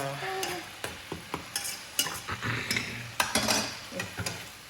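Chinese kale stir-fried with oyster sauce in a hot pan, with rapid repeated spatula scrapes and clinks over a continuous sizzle, close and fairly loud, and no speech.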